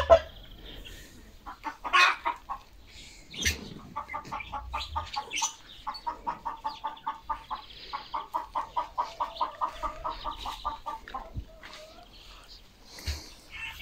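Hens cluck in a backyard vegetable garden: a rhythmic run of soft, repeated clucks at moderate distance, quite faint, with a few louder squawks and rustles.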